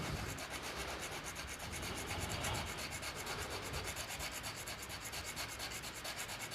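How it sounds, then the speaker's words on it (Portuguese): A chisel blade is rubbed steadily back and forth on an abrasive sharpening surface, a continuous close rasping scrape with no voices. "Você vai esfregar."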